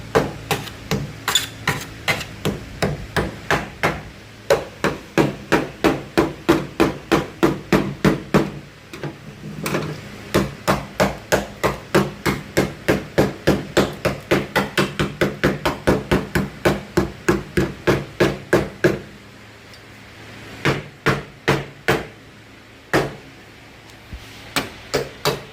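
Screwdriver repeatedly stabbed into a rusty GMC truck door, a rapid steady train of sharp metallic impacts lasting most of the time, with brief pauses and sparser hits near the end.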